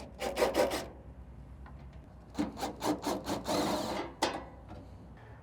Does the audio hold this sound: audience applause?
no